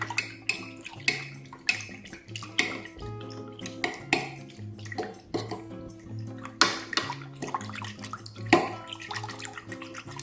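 Spoon stirring 2.25 teaspoons of dry yeast into room-temperature water for deep-dish pizza dough, with repeated light clinks and sloshing against the bowl in an uneven rhythm, close and moderately loud, no talking.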